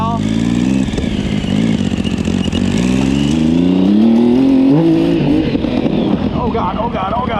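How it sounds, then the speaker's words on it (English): Yamaha Raptor ATV fitted with a swapped 1050cc engine, driven through a burn pile: a loud, close engine drone that climbs steadily in pitch as it accelerates, with clattering and revving throughout. "driving through my burn pile."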